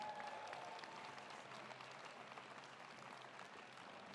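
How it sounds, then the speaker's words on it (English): An audience in the bleachers at a service program event gives a round of applause, heard as faint, steady, dense clapping from a distance that tapers slightly over a few seconds. "Please give them a round of applause."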